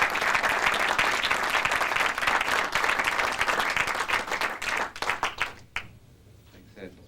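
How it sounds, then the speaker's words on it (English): A conference audience gives sustained, dense applause that stays full for several seconds, then thins into scattered claps and fades out near the end. "Let's give them a round of applause."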